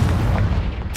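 A Confringo spell blast in the Hogwarts Legacy video game: one loud, close, booming explosion with a low rumble filling about a second, no voice over it.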